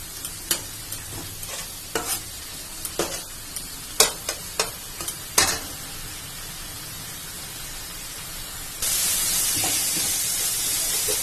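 Spice masala for aloo dum being stir-fried in a pan, a run of sharp spatula scrapes over a steady sizzle, followed by a louder, hissing frying roar near the end, with no talking.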